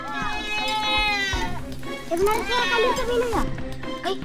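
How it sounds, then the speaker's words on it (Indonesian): Goats bleat from the side of a ravine in Donggala, a series of long wavering cries heard at moderate distance while a person talks over them. "Kami mendengar suara kambing dari sisi jurang"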